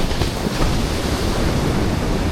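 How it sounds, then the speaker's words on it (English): Ocean waves crash on Hikkaduwa Beach in Sri Lanka, a steady, dense roar of surf mixed with wind noise on the microphone, loud and continuous with no talking. "The crash of the waves like thunder"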